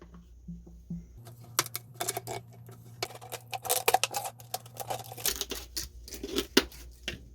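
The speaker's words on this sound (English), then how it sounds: "I might even actually cut this with scissors so that it has a little bit more room" Scissors cut through material at a DIY fall decor craft table, making a quick run of crisp, close snips and rustles with a faint low hum underneath at first.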